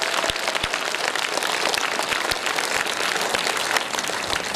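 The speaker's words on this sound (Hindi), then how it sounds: "जिले तक आवाज जानी चाहिए आपकी तालियों की" Dense, steady applause from an audience welcoming the district's first lady at a birthday cake-cutting ceremony, a continuous crackle of many hands with a few sharper claps close by.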